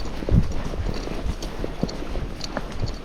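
Hooves of a young horse clip-clop at a steady walk, close and fairly loud, with an even rhythm of separate footfalls over a quiet outdoor background.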